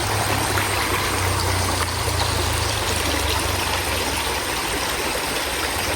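Clear stream water flows steadily in a constant close rushing wash at a chalet in Baling, Kedah, with no voices.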